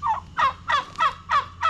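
Turkeys gobble in quick repeated bursts, several rapid warbling calls close and loud in succession.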